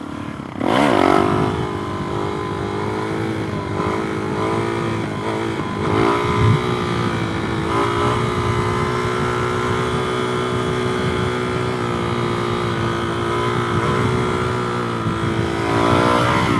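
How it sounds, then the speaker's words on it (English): A Suzuki DRZ motorcycle accelerates hard through first into second gear for a wheelie, its engine revving loud and close with a rising pitch, then holding a steady, strong drone. "first, second, let's pull up a little second gear wheelie"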